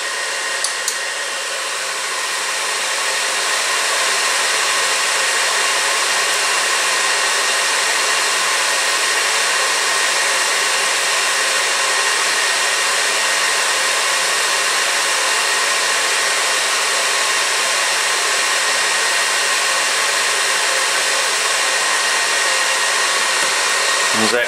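A fiber laser runs while marking steel tool holders on a rotary fixture, producing a loud, continuous whooshing machine drone that stays even throughout and cuts off at the very end.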